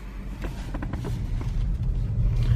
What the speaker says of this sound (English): you can hear a little bit of the car in electric mode